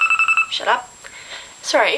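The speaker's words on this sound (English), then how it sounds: "That is my alarm." A phone alarm rings in a quick series of bright repeated electronic beeps. It stops abruptly, and a voice then speaks briefly, close to the microphone.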